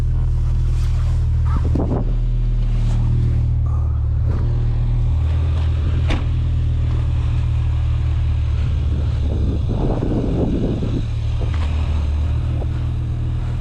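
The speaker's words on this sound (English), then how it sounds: "This is an incredibly unique car. It's a V10." A 2007 BMW M6 V10 convertible drives with the top down, its engine a steady low drone beneath heavy wind buffeting, with a brief rise in revs partway through and no talking.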